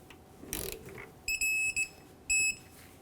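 A torque wrench tightening the rear brake caliper bolts of a 2013-2018 Hyundai Santa Fe to 20 ft-lb: one soft mechanical click, then a few short, loud, high electronic beeps close by.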